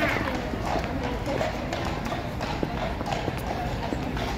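Horses walk along a busy street near Buckingham Palace and St James's Park in London, their hooves clip-clopping steadily beneath constant city noise and people talking nearby.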